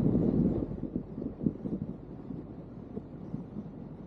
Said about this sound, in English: All I can hear is the wind.